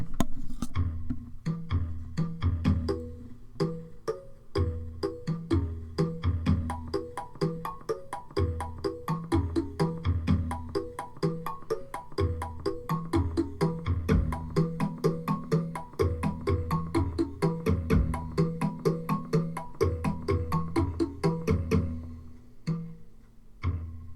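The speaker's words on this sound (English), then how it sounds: "that literally, I promise you, that is just a tool hook attached to a cabinet" A metal tool hook fixed to a cabinet is struck and sampled as pitched percussion, soaked in cathedral-style reverb with the highs rolled off, playing a busy rhythmic pattern of ringing tones over a low pulse, steady and moderately loud throughout.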